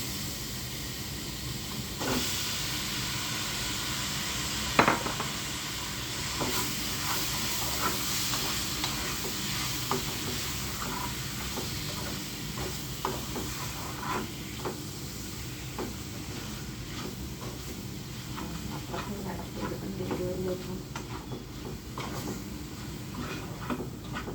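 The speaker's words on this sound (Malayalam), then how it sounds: "ഇനി നമുക്ക് ചിക്കൻ ഇട്ട് കൊടുക്കാം" Chicken pieces stirring in a pan of chicken stew, a faint steady sizzle and hiss with scattered scraping clinks of a spoon against the pan.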